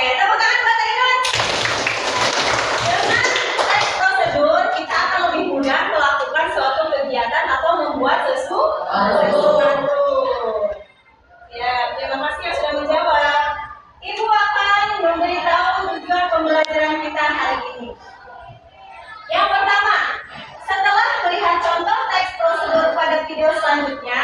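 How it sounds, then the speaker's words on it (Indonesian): A classroom of students applauds a classmate, a dense burst of clapping that swells and runs for several seconds, followed by lively chatter and laughter from the children. "tepuk tangan buat Ainun"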